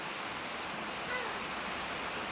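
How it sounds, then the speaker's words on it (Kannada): Steady rain falls outside during home cooking of chicken kebab and curry, an even broadband hiss that stays constant throughout. "ಮಳೆ ಬೇರೆ ಚಾಲು ಆಗಿಬಿಟ್ಟದ್ರಿ ಸದ ಅದ್ರಾಗ ಹೊರಗೆ ರೀ"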